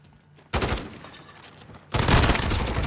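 Call of Duty video game gunfire in a hardcore free-for-all match: quiet at first, then a sudden loud burst, a brief lull, and a second heavier automatic burst that carries on to the end.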